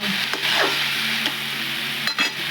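Bottle gourd dropped into hot oil with cumin seeds and green chili, a steady close sizzle with faint stirring scrapes running throughout.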